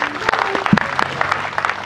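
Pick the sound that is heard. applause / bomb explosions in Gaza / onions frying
applause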